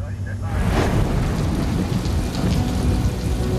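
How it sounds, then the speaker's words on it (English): Heavy rain pours down during a thunderstorm over Guam in the rainy season, a dense steady roar of rainfall with low rumbling thunder, loud and continuous throughout, with no one speaking. "Rain has been hitting Guam on and off all day."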